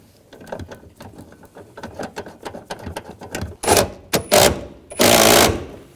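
Ratchet or impact tool tightening a seat bolt on a 2007-2013 BMW X5 3.0L L6, a run of quick clicks leading to several louder close bursts of mechanical whirring.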